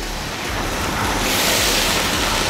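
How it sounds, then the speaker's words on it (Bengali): Marinated beef sizzles loudly in hot oil with onions for Old Dhaka-style beef tehari, a steady, dense frying hiss that holds throughout with no talking. "তেলের মধ্যে এখন একটু মাংসটাকে ভেজে নিচ্ছি একটু কষিয়ে নিচ্ছি"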